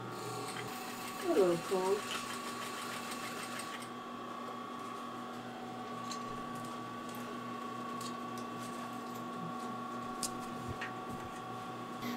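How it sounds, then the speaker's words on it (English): A home sewing machine stitches an adjustment into a fanny pack, its steady mechanical hum and rapid needle clatter running continuously at moderate distance while a person speaks briefly near the start. "she is going to sew and adjust my fanny pack"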